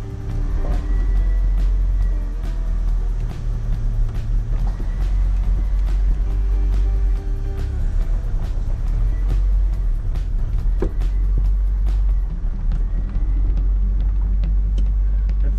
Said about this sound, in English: Time for a test drive.